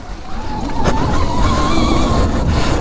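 Brand-new electric enduro motorbike pulling away hard, a rising whine under loud rushing wind and tire noise, steady and close with no talk.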